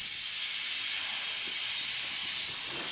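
A brake bleeder hisses in a steady, broad rush of air while motorcycle brakes are bled on a Goldwing, continuous and fairly close with no speech over it.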